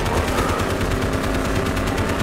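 Dense, continuous automatic gunfire in Call of Duty: Black Ops, loud and close with rapid overlapping shots throughout.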